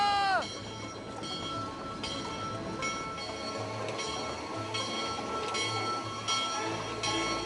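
Historic Sumpter Valley Railway train in Oregon, heard with a sharp whistle-like tone at the start followed by repeated rhythmic clanking and rumbling of the moving cars, moderately close and steady.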